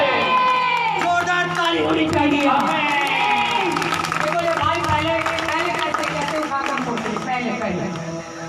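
A church congregation clapping and cheering during a testimony service, loud and continuous throughout, with a voice speaking over the crowd noise.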